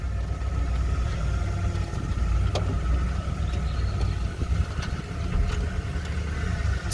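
A car engine runs steadily during a short drive, a continuous low rumbling drone with faint higher whine; the vehicle has a lit check engine light and a habit of stalling or cutting down.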